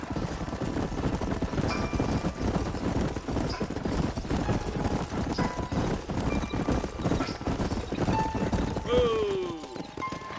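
Hooves clip-clop at a steady trot in the video game Red Dead Redemption, under constant background noise, with a horse whinnying briefly near the end.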